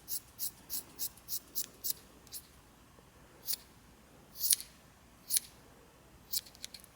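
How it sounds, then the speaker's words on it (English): Scissors snip through the yarn loops of a crocheted gnome beard, a rapid run of six crisp close cuts followed by scattered single snips with quiet pauses between. "What we need to do is go ahead and cut this loops at the bottom"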